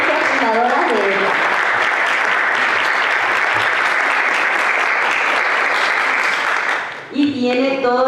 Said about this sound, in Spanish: darle un aplauso fuerte a Mabel Lebrón